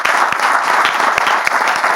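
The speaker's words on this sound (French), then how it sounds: "on peut applaudir bien fort." Audience applause on a French-language church talk show after praise for the pastor, steady dense clapping filling the full two seconds with a few sharper individual claps standing out.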